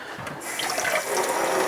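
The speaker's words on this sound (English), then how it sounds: "hot tap water." Warm-to-hot water running from a kitchen tap while making blue corn masa tortilla dough, a steady broad hiss of flow filling a cup, starting with a faint splash and growing fuller and louder.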